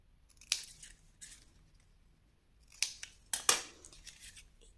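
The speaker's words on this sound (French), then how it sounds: "Et je vais couper." Scissors snip through paper for a scrapbooking pop-up photo project, with a single close cut followed by a quieter one, a pause, then a cluster of three crisp slicing strokes in a quiet room.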